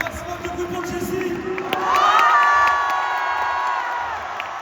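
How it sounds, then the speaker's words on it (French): A crowd cheering at a Billy DTR event, loud shouts, whoops and high children's voices swelling midway and staying strong, with scattered applause, in a lively indoor gathering. "Faites un maximum de bruit pour le Jessie."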